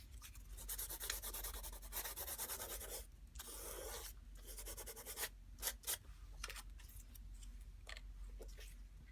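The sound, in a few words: sanding with sandpaper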